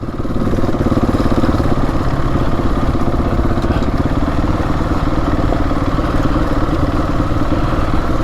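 Husqvarna 701 Enduro motorcycle engine running steadily, a loud continuous throbbing drone with a clattery edge that holds at an even level throughout, no talking.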